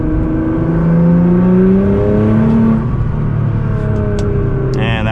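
A 700hp 2014 Nissan GT-R all-wheel-drive supercar in race mode accelerates hard from inside the cabin, engine note climbing through quick gear shifts, loud and continuous.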